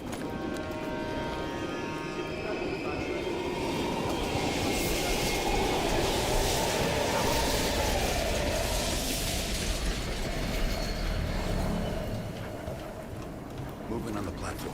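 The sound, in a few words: train passing in the video game Call of Duty Black Ops Cold War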